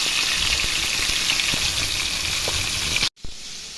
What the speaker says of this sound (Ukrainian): Ще остання сковорідка досмажується.